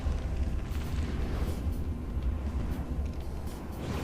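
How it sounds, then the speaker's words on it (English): Missiles fire constantly in From the Depths, a deep, rolling rumble of launches and distant booms that runs unbroken throughout with no voices. "It just basically constantly fires lots and lots of missiles."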